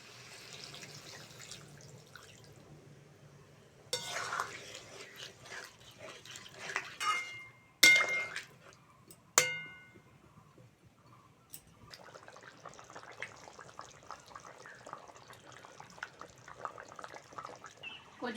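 Water pouring into a pan of fish curry after the spices are fried, with splashing and dripping bursts around the middle of the clip and quieter kitchen sounds around them, no talking.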